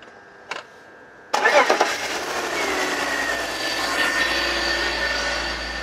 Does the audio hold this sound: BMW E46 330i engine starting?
yes